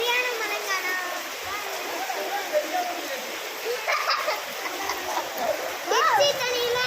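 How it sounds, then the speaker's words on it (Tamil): Heavy rain pouring down outdoors, a constant hissing wash of water with splashing, while people talk over it and a high voice briefly calls out. "ஆனால் ரொம்ப பெரிய மழைங்க."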